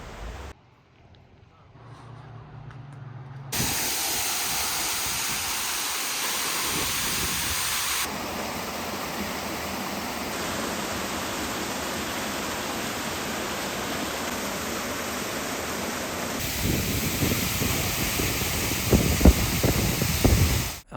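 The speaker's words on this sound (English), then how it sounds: "we stopped at this waterfall called Treasure Falls." Treasure Falls, a waterfall in Colorado, gives a steady, loud broadband rush of falling water that starts after a few quiet seconds and continues unbroken, swelling slightly near the end.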